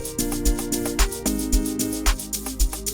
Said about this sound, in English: As you can hear, my guitars sound like this.